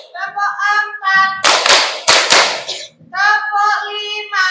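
Children in a classroom clap hands in rhythm, two short bursts of group claps between stretches of a woman's sung or chanted counting voice, fairly close and loud.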